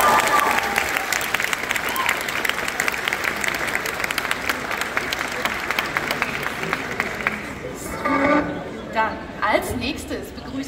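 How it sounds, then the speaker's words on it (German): Audience applause at an outdoor cosplay contest at Watercon on the Bremen waterfront: a dense, steady wash of clapping from a crowd that holds strong for about eight seconds, then thins into scattered claps and a few voices. "großer Applaus nochmal, unsere Savage Cosplayer."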